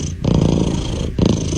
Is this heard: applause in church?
no